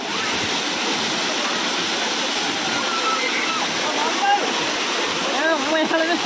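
The Kovai Kutralam waterfall, hidden behind trees, gives a continuous rushing hiss that stays steady and full, with faint splashing and a few scattered voices or bird-like chirps low in the mix.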